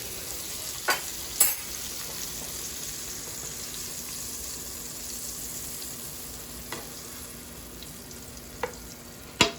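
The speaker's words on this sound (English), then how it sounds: "Now we're gonna remove our steaks from the pan." Prime New York steaks sizzle steadily in a hot pan, a continuous frying hiss with a few sharp clinks and scrapes as the meat is lifted out.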